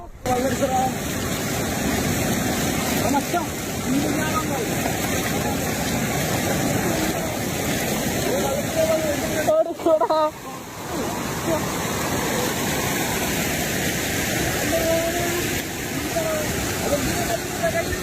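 A forest river in flood after two days of heavy rain near Gudalur, a torrent of water rushing in a loud, unbroken roar that stays dense and steady throughout, with one brief dip midway.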